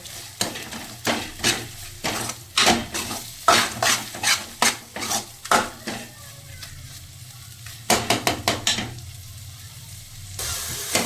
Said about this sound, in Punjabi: ਪਨੀਰ ਨੂੰ ਭੁੰਨਾਂਗੇ ਮਸਾਲੇ ਦੇ ਵਿੱਚ